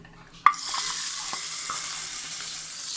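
Hot tempering in bitter gourd yogurt pachadi being stirred: a sudden sharp hit is followed by a steady soft sizzle and a few light stirring clicks, close and without voices.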